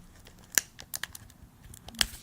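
Wet, stuck-together photographs being slowly peeled apart: faint sticky crackles and a few sharp tearing clicks, close and quiet, with no talk.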